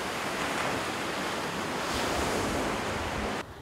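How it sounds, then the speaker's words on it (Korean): Ocean waves break and wash up on the shore at Haeundae beach in Busan, a loud, steady roar of surf with wind noise and no talking. "파도가 치면서 얼마나 바닷물이 시원하게 다가옵니까."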